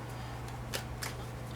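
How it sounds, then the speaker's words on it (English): Tarot cards from a Universal or Radiant deck are shuffled quietly, with a few soft riffling bursts over a low steady hum. "I'm shuffling away at I can't remember, is this Universal Tarot or is this just the Radiant?"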